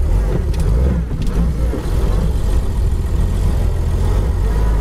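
A 1929 Chevrolet engine, cold-started with the choke pulled, runs at a loud, steady, rumbling idle close by, with a slight dip in the first seconds and no voices.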